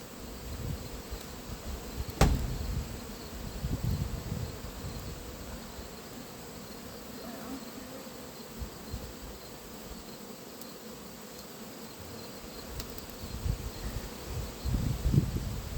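Honey bees buzz steadily around a backyard hive during late-season beekeeping work, a continuous close drone with occasional louder passes and some handling thumps.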